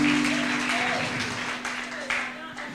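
A church congregation applauds in a steady, broad wash of clapping, with a sustained low hum and faint voices underneath.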